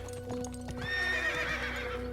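A horse in the Road to Empress video game whinnies loudly over a steady background hum, with a few soft hoof clops just before the neigh.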